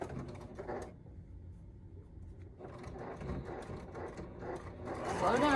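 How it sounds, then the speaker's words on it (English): A sewing machine stitches a seam on a tote made of toweling, running in bursts of whirring, rattling stitches with a pause in the middle, then picking up louder toward the end. "If it's too thick for your sewing machine, cut those seams down where they'll fit in there better."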